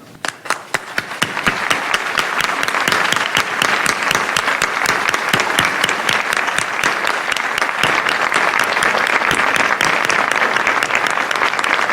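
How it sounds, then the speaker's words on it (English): Warm applause from an audience at a public event in Veracruz, Mexico, starting with a few scattered claps and quickly swelling into loud, sustained clapping from a large crowd that continues steadily to the end. "let's give a warm round of applause"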